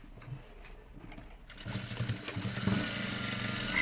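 Sewing machine stitching the side seam of a small coin pouch without a handle, a steady mechanical whirr that starts soft and grows louder and busier partway through, running alone with no talk.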